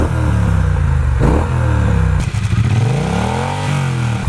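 A Triumph Bonneville T120 fitted with a British Customs Sleeper Pro exhaust and stock catalytic converter is held at about 5,000 RPM, giving a loud, steady, close engine drone that wavers slightly near the end.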